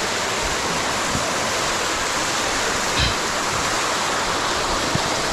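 Waterfall and stream rushing through a snowy mountain gorge in winter, a steady, loud broadband roar of falling water that stays constant throughout with no voices.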